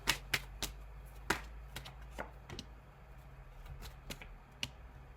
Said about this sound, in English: Let me shuffle to find out more.